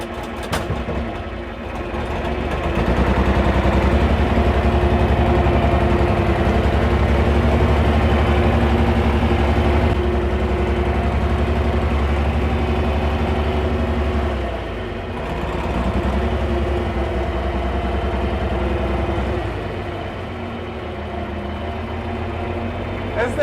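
An old tractor engine runs steadily with a deep, continuous drone while being driven through a manual transmission, its pitch dipping briefly once or twice as it labours, with no talk over it.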